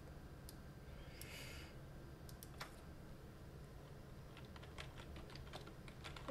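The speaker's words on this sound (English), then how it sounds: "I'm like pushing all buttons on my keyboard." Rapid, faint clicks of buttons being pressed on a computer keyboard while playing a game, scattered taps clustering toward the end over a steady low background hum, with no voices.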